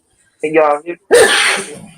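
One sharp, loud sneeze bursts out right after a man's short spoken question at a wrestling watch party, close to the microphone.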